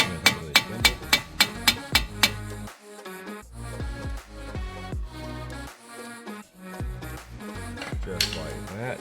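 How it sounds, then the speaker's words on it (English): A run of about eight sharp, evenly spaced taps on the top of a Mini Cooper front strut opens the clip, struck to free it. A voice and steady background sound continue after the taps stop. "You can tap on the top of the strut gently."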